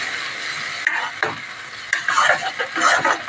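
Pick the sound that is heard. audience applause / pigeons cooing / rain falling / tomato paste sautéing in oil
tomato paste sautéing in oil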